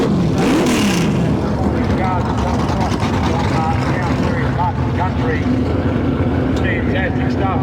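A 3,000-horsepower MPW Capri drag racing car at a drag challenge event roars with a loud, sustained engine rumble throughout, with a brief higher-pitched burst near the start over constant crowd and track noise.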